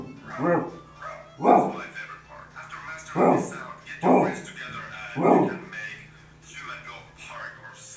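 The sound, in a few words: person vocally imitating a dog barking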